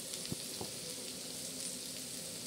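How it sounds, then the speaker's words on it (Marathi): Chopped onion frying in a pan for black-masala chicken, a faint steady sizzle with scattered soft crackles and pops, heard alone. "कांदा आपला खुसखुशीत चांगला तडा तडा जळत आहे"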